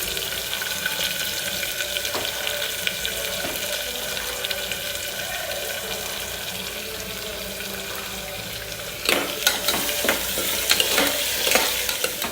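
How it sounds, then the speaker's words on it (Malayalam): Chopped onions fry in a pan for a potato curry. A steady sizzle runs throughout, and a burst of stirring clatter and scraping comes near the end. "അതൊന്ന് മൂത്ത് വരാൻ നേരത്ത് നമുക്ക് അരിഞ്ഞു വെച്ചേക്കുന്ന സവോള ചേർത്ത് കൊടുക്കാം."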